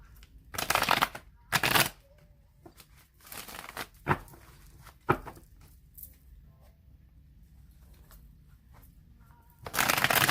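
A deck of tarot cards is shuffled several times in quick riffling bursts, with quiet pauses and light handling noises between them.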